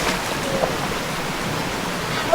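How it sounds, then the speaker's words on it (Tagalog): A flowing stream on a farm lot in Bagong Silang, Quezon, a steady soft broadband rush of water with no clear pauses, fairly close and alone. "Parang ilog-kilog. May batis."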